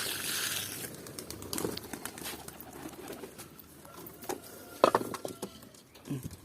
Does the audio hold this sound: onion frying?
no